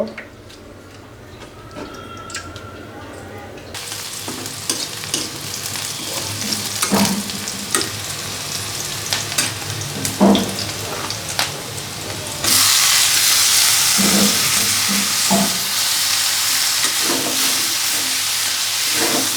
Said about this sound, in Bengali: কড়াইয়ের মধ্যে দিয়ে দিচ্ছি শাকগুলো শাকগুলো ভাপিয়ে নিব